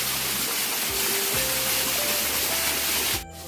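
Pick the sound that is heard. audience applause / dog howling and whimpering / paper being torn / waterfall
waterfall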